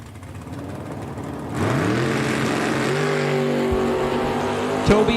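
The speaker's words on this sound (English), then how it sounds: "Terry is in the S10. Toby is in the 71 Camaro." Two drag racing cars, an S10 and a 1971 Camaro, launch side by side at a bracket race at Eddyville Raceway Park, engines jumping from idle to a loud rising roar and holding full throttle as they pull away.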